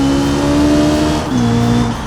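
Car engine heard from a hood-mounted camera in the BeamNG driving game, a steady loud drone with a sustained tone that drops slightly in pitch partway through, running continuously without talk.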